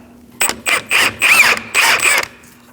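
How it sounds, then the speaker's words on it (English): A 15mm socket on a ratchet works the nut off a rear shock absorber from a 2016-2019 Chevrolet Cruze, five quick close clicking bursts in a steady rhythm. "I'm going to use a 15mm socket to remove the nut off this shock absorber to get the mount off."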